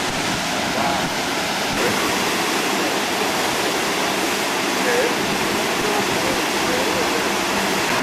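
Water pours over Fruitbat Falls on Cape York, a steady, loud, broadband roar of falling water that holds unbroken from start to finish, with faint voices mixed into the rush.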